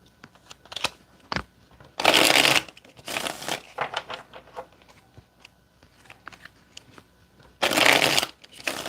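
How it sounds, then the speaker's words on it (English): Tarot cards are shuffled in three quick, crisp riffling bursts, with soft handling taps and rustles of the deck in between. "Let's get two more shuffles."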